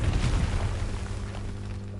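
A Confringo explosion spell from Hogwarts Legacy gives a deep, rumbling boom that starts loud and slowly decays over two seconds, with no talk.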